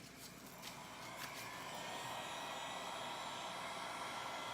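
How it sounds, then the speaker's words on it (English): A heat gun blows steadily over ocean-themed resin coasters, a soft, continuous airy hiss that starts slightly quieter and then holds at a low, even level. "I'm going to grab my heat gun and try to get a few of these things moved around"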